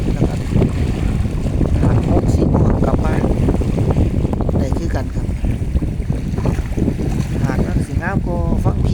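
Boat ride out from Ban Phe pier in Thailand: a loud, steady engine drone with rushing water and wind buffeting the microphone throughout, while someone talks over it.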